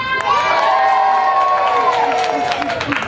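A theater audience at a melodrama performance cheers loudly for the hero's entrance, a sustained burst of excited shouting and whooping voices, with some children's shrieks and scattered clapping underneath.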